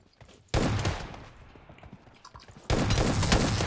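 Uzi submachine gun fire in the mobile battle royale game PUBG Mobile rattles out in two loud rapid bursts, with quieter shots and crackle in the gap between them.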